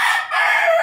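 A half Asil, half Lacy Roundhead cross rooster crows once, a loud close, bright drawn-out call with a brief dip midway, heard alone.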